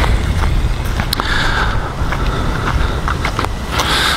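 A VRX RH1045 Octane XL 1:10 RC truck runs at full throttle, its whining motor and rumbling drivetrain roaring loud and steady for about four seconds, with wind buffeting the microphone and no talking.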